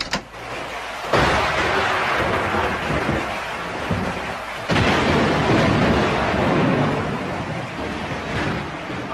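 Thunder rolls through a storm scene in an old Filipino film. Two loud, sustained rumbling crashes break in sharply and then linger over a wash of steady noise, with no voices.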